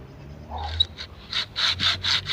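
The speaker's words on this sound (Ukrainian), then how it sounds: "ось ми вже його пиляємо. Ось так обережно пиляємо на сам акумулятор." Hacksaw cutting through a scooter battery's plastic casing along a seam, a run of rhythmic rasping strokes that grow louder and more regular, close up with no talk.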